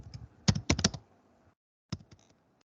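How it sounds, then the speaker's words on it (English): Computer keyboard typing in two short bursts of crisp, close key clicks, a quick cluster of strokes followed by a pause and then a few more taps. "I am typing what I am doing."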